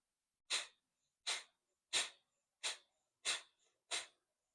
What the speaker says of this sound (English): push all of that air out as you suck your belly in